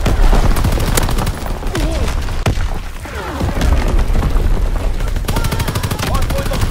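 Heavy gunfire in Call of Duty WWII during a Hardpoint match on the Valkyrie map, with dense rapid machine-gun bursts, scattered single shots and booms, all loud and close.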